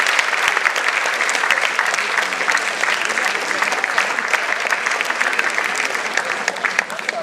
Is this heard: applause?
yes